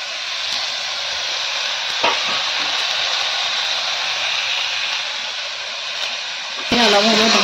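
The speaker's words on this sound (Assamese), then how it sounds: "মাংসখিনি দি পেলাই এতিয়া মই অলপ সময় ভাজিম এনেকৈ" Meat sizzles in a pan with already softened, fried tomatoes, a steady loud hiss that runs unbroken for several seconds, with a brief clatter near the end.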